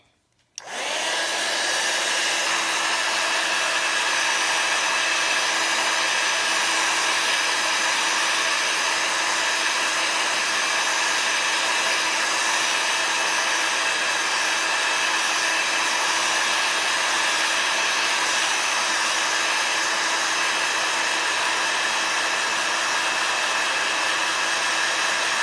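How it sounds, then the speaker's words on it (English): A heat tool switches on and blows a steady, loud whooshing hiss over ink on an embossed card, running continuously and alone. "we're going to heat dry this for a quick second"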